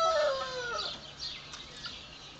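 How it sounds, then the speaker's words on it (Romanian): A Japanese silkie chicken gives a brief squawking call up front, followed by faint scattered clucks over quiet farmyard background. "Aici avem o anume specie de găini, gen matase japoneză, este foarte rară în lume."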